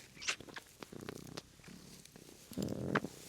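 A cat purring up close in a greenhouse, soft rumbling purr cycles with uneven breaths and a few brief louder bursts, alone without talking.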